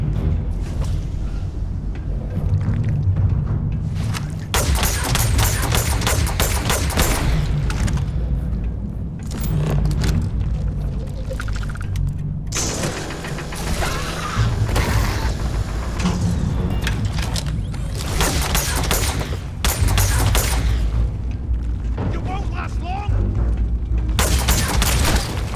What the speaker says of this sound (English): This guy's fucking shooting stuff at us.